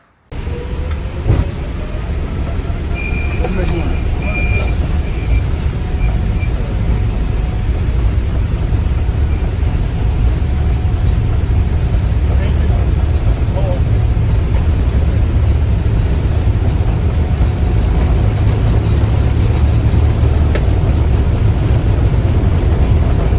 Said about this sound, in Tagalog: manood muna tayo ng takeoff